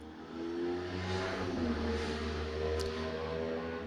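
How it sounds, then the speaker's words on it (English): Motorcycle revs past, a loud rising and falling engine roar that swells quickly and holds for a few seconds before fading slightly. "That was a ripping motorcycle."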